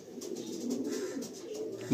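A pair of Kalanka pigeons, a male and a female, coo close by in a soft, continuous rolling murmur that runs steadily throughout without pause.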